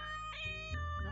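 A cartoon cat meows in a single drawn-out, nasal, wavering call, loud and close, with no talking over it.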